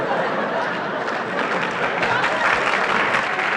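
Applause from a 1970s stand-up comedy audience in a theater: a dense, steady wash of clapping mixed with chatter and a bit of laughter, continuous through the short stretch.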